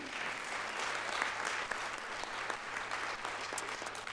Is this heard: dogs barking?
no